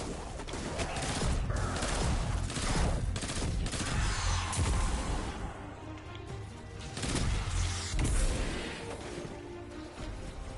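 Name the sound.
gun firing repeatedly in the video game Destiny 2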